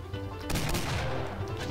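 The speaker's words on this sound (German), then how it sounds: "Und wir Mario gerade mit AK ausgerüstet haben." Rapid rifle fire from an AK in a Doom-style mod of the Mario 64 video game, a dense burst of repeated game gunshots running steadily through the short stretch without speech.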